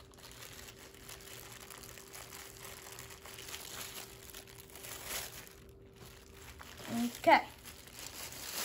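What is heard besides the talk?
plastic bag crinkling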